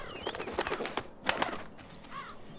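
Raven in the video game Dreamfall Chapters, heard as soft fluttering wingbeats mixed with bird calls and chirps over faint ambience, moderately quiet and without speech.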